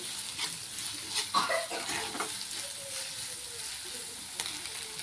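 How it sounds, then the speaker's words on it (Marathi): Onion sizzles steadily in a hot pan while being stirred, with a few soft scrapes and clinks of the spoon over a constant hiss, close and moderately loud, no talking. "मिक्स करून छान लाल रंग येईपर्यंत कांदा आपण भाजून घेऊया."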